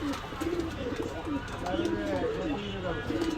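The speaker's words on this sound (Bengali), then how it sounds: "একেবারে ফুল ক্রিম চোখের কবুতার দর্শক যারা দেখতে চাচ্ছেন অবশ্যই কবুতা দেখতে পারবেন" Pigeons coo repeatedly inside a pigeon shop, their low rolling calls close and clear beneath someone talking.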